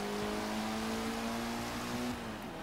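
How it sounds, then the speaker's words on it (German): Car engine in Forza Horizon 3 with a Mitsubishi Lancer-like turbo tone, a steady drone with a slowly rising pitch that holds for about two seconds, then eases off. No one speaks. "Die hört sich an wie ein Mitsubishi Lancer."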